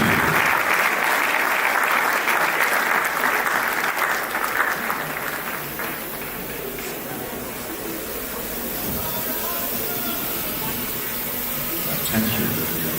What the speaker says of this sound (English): let's give a warm applause to the Vice Chancellor of Miva Open University, Professor Tayo